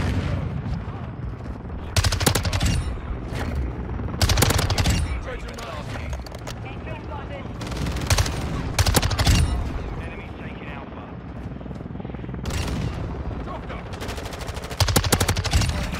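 MX9 submachine gun firing in Modern Warfare 2, sustained rapid automatic bursts repeating through a noisy match with shorter pauses between volleys, a steady close-up rattle.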